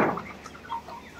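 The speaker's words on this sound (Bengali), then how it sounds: "এটা হচ্ছে দেশি মুরগি।" Desi (native) chickens cluck in a poultry shed, a few short, moderately quiet clucks over soft background noise, with no talking.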